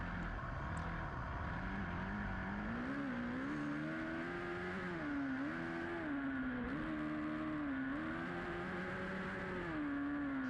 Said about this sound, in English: He hears me revving behind him.